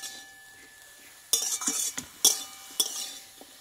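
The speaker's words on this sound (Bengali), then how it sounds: "আমি একটু এবার কষিয়ে নিব ভালোভাবে।" Greens and stalks being stir-fried in a pan after softening under a lid: a quiet start, then several distinct scraping, clattering stirs of a utensil against the pan, with faint sizzle, close and alone without talk.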